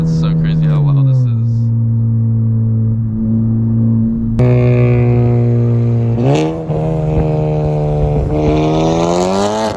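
A Honda Civic FK8 Type R with a Tomei Type D catless exhaust revs hard and loud close by, its tone climbing and falling through several sharp rev sweeps.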